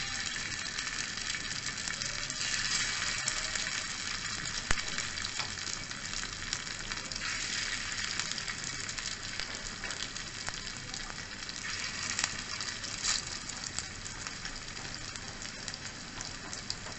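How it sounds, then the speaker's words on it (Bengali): Soybean oil sizzles in a heavy iron wok over a very low flame, a soft, steady crackling and spitting fry that continues evenly throughout with no voices. "আমি ধীরে ধীরে জাল করে এটা ভাজবো।"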